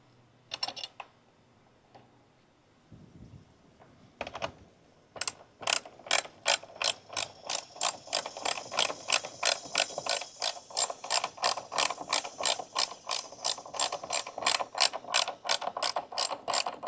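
A ratchet wrench clicks under the hood of a 2023 Ford F-150 during an oil catch can install, first a few short bursts, then a long run of fast, crisp ratcheting clicks, close and clear.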